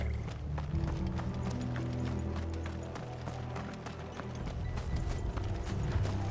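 Horses gallop in the video game Final Fantasy XVI, rapid rhythmic hoofbeats clattering close and loud over a low rumbling game soundtrack.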